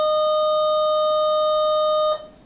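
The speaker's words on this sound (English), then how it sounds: "that's the buzzer" A steady electronic buzzer tone holds loud and unbroken for about two seconds, then cuts off abruptly, leaving faint room noise.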